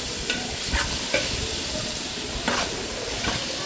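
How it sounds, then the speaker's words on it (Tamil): Ginger garlic paste fries with browned onions in oil for biryani, a steady sizzle broken by several scraping stirs of a spoon in the pan, close and moderately loud. "இஞ்சி பூண்டு பேஸ்ட்டை அதில் ஆட் பண்ணுவோம். அதை அப்படியே மிக்ஸ் பண்ணிவிட்டு"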